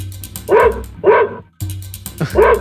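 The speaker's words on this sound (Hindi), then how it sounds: "भैया को देखकर भौंक क्यों रहे हो?" A dog barks repeatedly at close range, four loud sharp barks with short gaps between them, nothing else heard.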